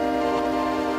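A piano chord sampled from original stems and reshaped into a sustained synth tone, holding steady as a single bright, harmonically rich sound for about a second, loud and alone with no voices.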